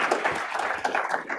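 Brief scattered clapping from a conference audience for a speaker in a hall, a short even patter lasting about a second and a half.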